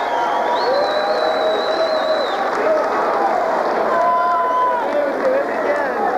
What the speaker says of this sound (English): Wow, listen to the crowd.